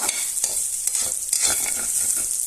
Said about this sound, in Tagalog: Pakulahin po natin ating bawang.